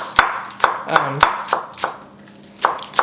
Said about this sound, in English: let's just chop some green onions